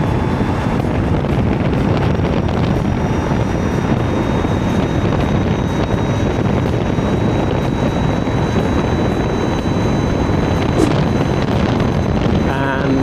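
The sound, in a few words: Ather 450X electric scooter riding at top speed, wind noise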